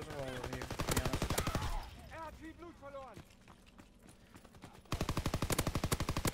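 A PPSh submachine gun fires in a video game, loud rapid automatic bursts at the start and again at the end, with someone talking in the quieter stretch between.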